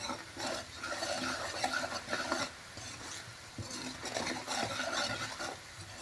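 Onions browned with salt, chilli, turmeric and coriander powder being stir-fried in a pan, continuous scraping and rasping stirs over a low sizzle, close and steady with no talk.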